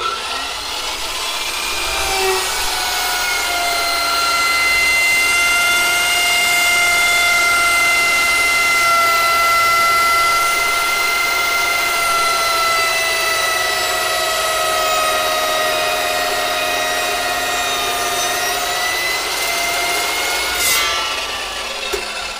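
A new saw cuts through reinforced rubber hose, a sustained whining, droning cut held for about twenty seconds, loud and close, fading at the end, with no speech.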